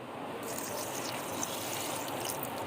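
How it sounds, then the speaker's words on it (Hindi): A glass of water poured into a bowl of falsa soda mix with sugar and lemon juice, a soft steady trickling splash heard alone and fairly quiet throughout. "इसके अंदर हम डालेंगे 1 गिलास पानी का।"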